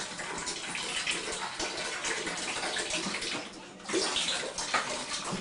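Water pours steadily into a bathtub from the tap in a home bathroom, a loud, close, continuous gushing and splashing that swells briefly near the end.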